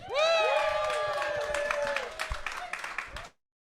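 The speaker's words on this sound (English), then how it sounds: "let's have another applause for him, please" Audience applause for a performer on a variety show with magic and stand-up, brief scattered claps under a loud, sweeping tonal sound that dominates, ending in sudden silence.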